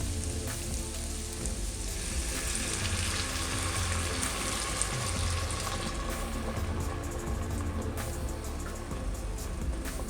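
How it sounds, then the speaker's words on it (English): White wine poured into a hot pan of garlic while braising rabbit gives a steady, loud, dense sizzle with a rain-like hiss that holds throughout, with no talking. "now we'll deglaze with a cup of white wine"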